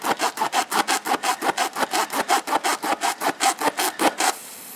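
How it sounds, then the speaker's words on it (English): A reaming tool is worked back and forth through a hole in cold, stiff rubber, making about twenty loud, close, evenly spaced rasping strokes in a steady rhythm before stopping. "You want to keep reaming the hole out until it's kind of real easy to get it in and out of there."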